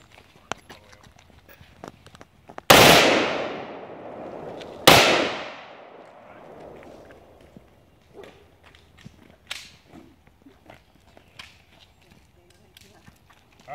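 Automatic gunfire at a SWAT demonstration, with two sharp loud reports ringing out and echoing, followed by quieter clicks and handling noises.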